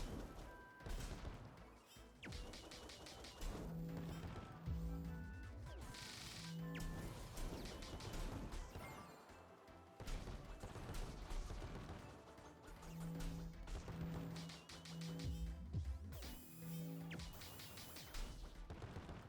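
Enemy shots firing in the action RPG CrossCode, a busy stream of sharp hits and crashes repeating over game music with bright tonal blips.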